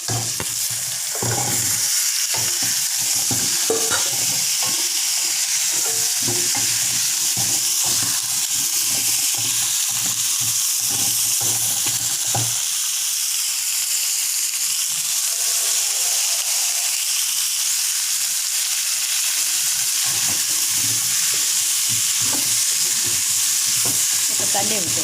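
Young green mango frying and being stirred in a pan with ginger, garlic, onion, turmeric and salt for pachadi, a steady close sizzle with scraping stir strokes, no talking.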